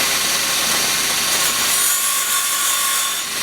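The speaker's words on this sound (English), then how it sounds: "I'm grinding the ends of the dome-shaped rods to a point so that they fit in the position there and make it easier for me to weld." An angle grinder works the ends of steel rods into points, making a loud continuous abrasive grinding whine that holds steady throughout, close and with no voices.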